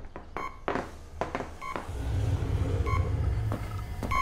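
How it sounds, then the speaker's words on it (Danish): A radio beeps inside a secret room: short, repeated electronic tones over a low rumbling hum, fairly close and clear. "Så bipper radioen inden for det hemmelige rum."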